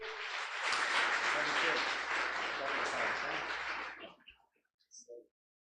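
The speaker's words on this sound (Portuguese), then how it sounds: "Você pode aplaudir ao Senhor" A church congregation at a Sunday night service claps for the Lord in a dense, steady burst of applause lasting about four seconds, then it stops abruptly, leaving a few faint knocks.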